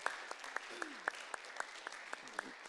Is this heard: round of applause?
yes